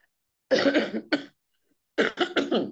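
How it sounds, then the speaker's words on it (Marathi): Several sharp coughs close to the mic, a cluster of three then a pause and another burst of three, with no talking. "सॉरी थोडासा खोकला झालाय"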